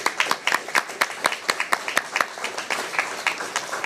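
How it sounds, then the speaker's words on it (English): Small group clapping at a city council meeting, a few distinct hands giving sparse, rhythmic claps in a quiet chamber, moderately close with no talking over it. "A round of applause for you all and the awareness."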